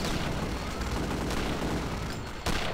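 Sustained automatic gunfire from enemy soldiers' Venom guns in Return to Castle Wolfenstein, a dense, continuous loud rattle of shots filling the whole stretch with a sharper burst near the end.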